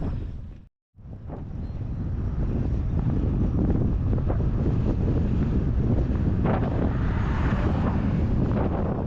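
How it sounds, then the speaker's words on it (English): Strong wind buffets a cyclist's microphone out on the open road. The roar is loud and continuous, with one brief dropout near the start and no voices. "it's a pretty significant wind"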